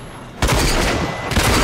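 Gunfire in the video game RAGE, a sudden loud burst of rapid shots that roars on continuously, close and dense, with a brief dip before resuming.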